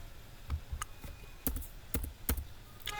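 Typing on a computer keyboard at a desk, a handful of separate close key clicks and taps spread irregularly over a few seconds, alone with no talk.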